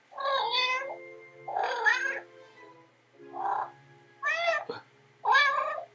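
A pet cat meows loudly and insistently at close range, giving five separate drawn-out calls with short pauses between them and no talking.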